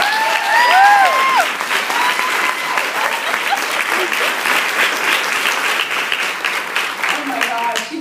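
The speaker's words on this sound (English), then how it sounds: "you guys give them a round of applause" An audience claps for an act at an evening event in Fort Worth, producing a loud, dense and steady burst of applause that fills the room and carries on throughout without a break.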